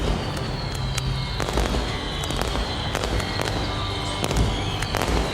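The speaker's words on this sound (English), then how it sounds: "Now we're just moving into the fireworks" Fireworks at a cricket ground during an evening one-day final between Australia and Pakistan: repeated sharp bangs and crackles over a continuous crowd roar, at a distance.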